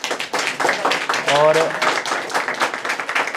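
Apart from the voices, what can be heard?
audience applause for a student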